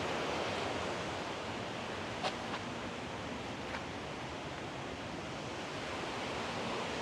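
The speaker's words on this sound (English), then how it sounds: "You can hear the rushing sounds of the river down there." River rushing far below a viewpoint in Nikko, Japan, a steady broadband roar of water that never lets up, even and continuous with only faint small clicks over it.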